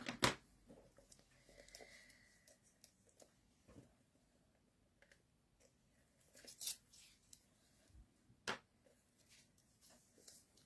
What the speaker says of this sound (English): Get my other little scissors I use for sticky things so the other ones don't get gummed up.